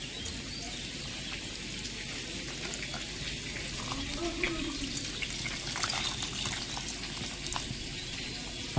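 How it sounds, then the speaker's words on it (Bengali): Hot water poured over fried paneer cubes in a kitchen bowl, a steady, soft splashing pour that runs for several seconds, with faint kitchen ambience and no talking. "এখন এটা যাতে সফট থাকে তার জন্য এর মধ্যে আমি গরম জল দিয়ে ভিজিয়ে রাখবো পনিরটাকে"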